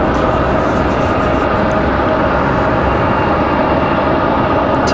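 Steady, loud roar of an Envoy Air Embraer E175LR jet airliner at Raleigh-Durham airport, a dense continuous engine noise filling the whole span without letting up.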